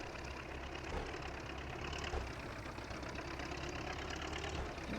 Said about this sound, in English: This little tractor is not struggling with this at all.